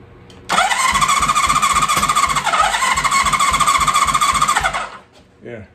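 A 1980 Honda CB650 motorcycle engine cranked by shorting a cylinder, a loud continuous starter whir with rapid rhythmic chugging that runs for about four seconds and then cuts off, followed by a faint clunk.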